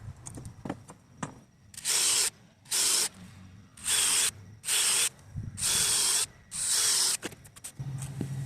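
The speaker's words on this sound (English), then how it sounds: "drill some pilot holes in here for the bolts" Six short bursts of a high, whirring power drill boring pilot holes for hinge bolts on a farm gate, each about half a second, with brief quiet gaps and faint clicks between them.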